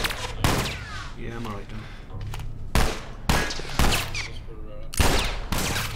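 Gunfire in The Last of Us Remastered, several loud sharp shots cracking out at irregular intervals, close and punchy, with someone talking between and under them.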